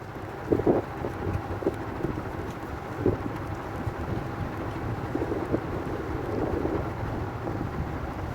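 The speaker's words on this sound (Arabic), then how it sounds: "كان الهوا شديد جدا يعني حقيقي" Strong wind blows across a seaside beach, a constant low roar buffeting the microphone with occasional heavier gusts and thumps.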